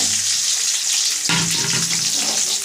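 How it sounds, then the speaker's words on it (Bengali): Steamed cauliflower fries in hot oil in a home kitchen, a loud continuous sizzle close by that surges as more pieces go into the pan partway through. "আমি ফুলকপিটা ভেজে নেব"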